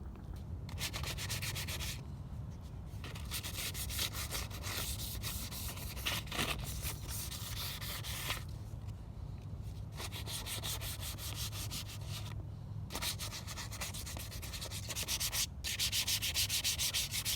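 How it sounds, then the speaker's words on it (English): 220 grit sandpaper scuffs the surfaces of a Ruger 10/22 rifle before painting, long rhythmic rasping strokes with brief pauses between them, close and steady throughout with no talk. "we're going to scuff everything up with some 220 grit sandpaper"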